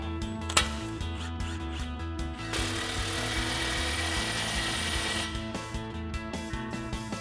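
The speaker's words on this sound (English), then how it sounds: "Same thing, impact and 15mm socket." Impact wrench with a 15mm socket tightening an MBRP cat-back exhaust clamp on a Jeep Wrangler TJ: one loud, sustained burst of close mechanical hammering that runs for a few seconds, with quieter handling clicks before and after.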